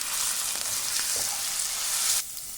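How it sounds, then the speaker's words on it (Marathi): Soaked urad and moong dal sizzle steadily while being stirred in a hot pan, a close, continuous crackling frying hiss with a few scraping touches, cutting off sharply near the end. "ही डाळ चांगली आपल्याला कडक होऊपर्यंत परतायची आहे."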